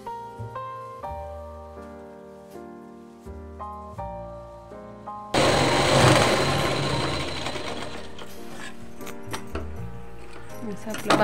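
A domestic sewing machine runs up the sleeve seam of a katori blouse, a steady close mechanical whir with a rhythmic needle clatter, broken by short pauses, then a louder, busier burst of stitching as the sewist keeps talking throughout.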